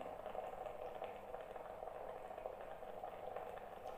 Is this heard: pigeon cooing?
no